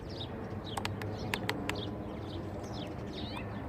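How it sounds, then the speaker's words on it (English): Birds chirp and twitter outdoors in short, high, scattered calls over a steady background hiss, with a brief run of sharp clicks partway through. "The birds are all excited."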